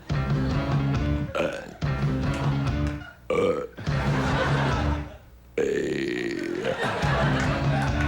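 A performer lets out a series of long, loud, rasping burps on a late-night talk show stage, separated by short pauses, with a crowd murmuring and reacting between them.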